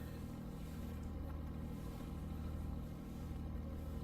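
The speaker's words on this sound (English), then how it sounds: "the sounds when you're taxiing, it sounds like it's an old rickety plane" A vintage Navion 205 light aircraft taxis, giving a low, steady engine rumble with a slight rattly pulse, faint and continuous without any talk.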